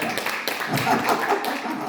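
Short burst of many hands clapping together in a church congregation, a dense, steady patter from a group lasting a couple of seconds.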